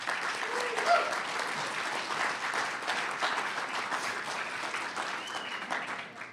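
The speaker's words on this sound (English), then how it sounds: "Let's give them a round of applause." An audience applauds entrepreneurs at a local business challenge event, sustained even clapping from a sizable crowd in a room, steady and moderately loud throughout, with no talk over it.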